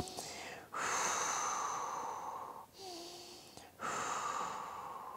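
Steady breathing during a Pilates floor stretch reaching for the feet, with long loud exhalations broken by two short pauses for inhaling, close and without any talk.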